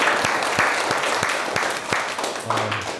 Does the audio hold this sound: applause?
yes